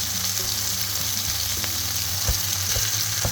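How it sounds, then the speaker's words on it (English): Beef mince hisses and sizzles in hot oil in a pan, a dense steady frying noise with a few faint clinks and stirs, close and without talk. "In the same pan, I'm just adding a little bit more oil, and then I'm adding my mince."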